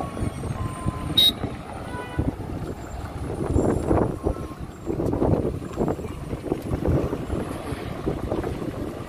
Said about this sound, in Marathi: तो ट्रक अडकलाय वाटतं, तो बघा